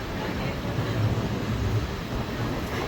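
A train heading to Bombay rumbles over water, a steady broad roar with low rhythmic clatter, heard from inside the carriage with faint voices underneath.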